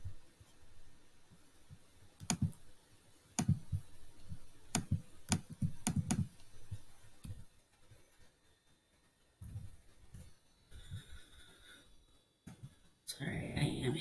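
Computer mouse clicking while building sublimation designs in Silhouette software: a series of sharp, close clicks, some in quick pairs like double clicks, spaced over several seconds, then a quieter stretch with light clicking.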